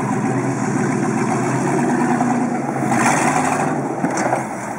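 A car engine, driven while wheeling, runs steadily at moderate loudness and swells briefly as the throttle opens around the middle before settling again. The sound is continuous with no talk.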